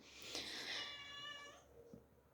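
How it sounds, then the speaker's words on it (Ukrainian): A single drawn-out cat meow, high and whiny, fading at the end with a faint short sound afterward; fairly quiet, no talking, indoors. "Кіт, чого кричиш?"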